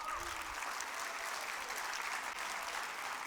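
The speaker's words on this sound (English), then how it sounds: "Give yourselves a round of applause." Audience applause at a talk on communication, dense and even clapping from a sizable crowd that holds steady for the whole stretch without any voices on top.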